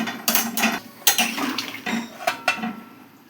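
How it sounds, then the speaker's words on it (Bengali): Potatoes dropped into a pot of boiling food, a close series of splashy thuds and clattering knocks against the pot in quick succession, with no talking. "এবার এর মধ্যে আলুগুলো দিয়ে দেব।"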